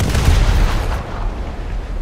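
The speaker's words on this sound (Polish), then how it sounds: "Dobra, gotowi do strzału." Cannon shot in the War Thunder tank game: a loud, close boom bursting at the start with a low rumbling tail that fades over about a second, no voices over it.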